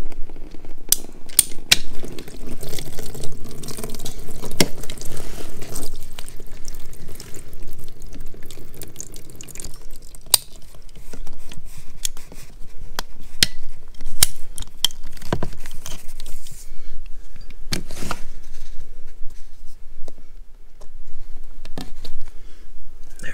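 Cutting through plastic pipe during a budget mobile home remodel, a close, steady rasping and crunching with scattered sharp clicks and snaps, the grinding easing off partway before a few more isolated snips.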